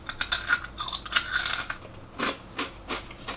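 Crisp, crackly crunching of a tortilla chip bitten and chewed close up, a run of dense crunches followed by a few slower, separate chews.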